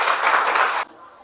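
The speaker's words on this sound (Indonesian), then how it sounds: "kasih tepuk tangan untuk kelompok 3" A school class gives a student group a short burst of dense applause, loud and close, stopping abruptly after under a second into near silence.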